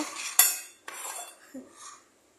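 A utensil stirs onion and tomato in a metal pan, giving a few sharp clinks and scrapes spaced unevenly before it goes quiet, with no talking.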